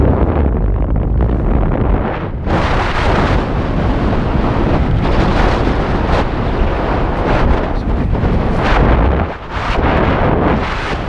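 Strong, gusting wind buffets the microphone throughout a paraglider's descent toward a tight landing zone at Mt Baldy, Alaska, a loud continuous low roar that briefly drops away in a few short lulls.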